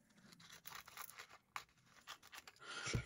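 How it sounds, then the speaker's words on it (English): A section of tape is cut up close, giving quiet, uneven scratchy tearing and snipping sounds over about three seconds, faint overall with a louder scrape at the end. "I'm going to cut that section out"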